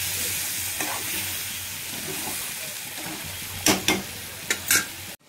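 Broiler chicken and potatoes frying in a pan, a continuous bright sizzle with a few sharp stirring scrapes and clatters toward the end.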